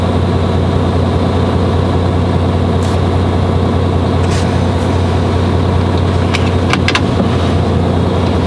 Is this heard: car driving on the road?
yes